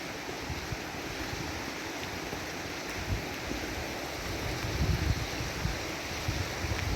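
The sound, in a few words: flooded Sylamore Creek rushing water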